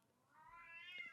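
A house cat gives a single drawn-out meow that rises and swells over about a second, close to the microphone and fairly quiet, in an indoor setting.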